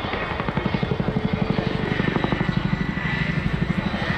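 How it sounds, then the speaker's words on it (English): A powerful turboprop aircraft with about 10,000 shaft horsepower flies a roller coaster manoeuvre at the Royal International Air Tattoo 2023 airshow, its loud propeller drone pulsing steadily throughout. "brings the aircraft 50 degrees nose up from the horizontal and pushes the aircraft down towards the ground"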